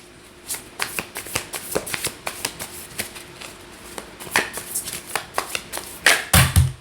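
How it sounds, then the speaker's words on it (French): Tarot cards being shuffled and laid out for a nine-card spread, with a run of crisp riffling and slapping card sounds in quick irregular bursts, close and fairly soft, ending in a few louder taps. "je vais faire l'étalement de 9 cartes."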